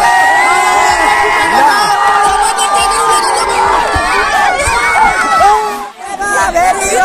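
A crowd of schoolchildren shouts, whoops and cheers after winning a school cricket match, a dense, loud babble of excited voices that runs nearly nonstop and dips briefly near the end.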